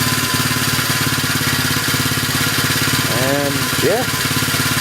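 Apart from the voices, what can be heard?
110cc pit bike engine running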